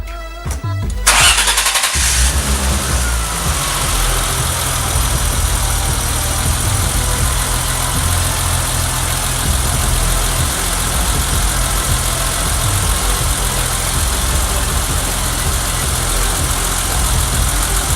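A BMW E30's engine, fitted with a headlight intake, cranks briefly and catches, then settles into a steady, loud idle that continues without a break.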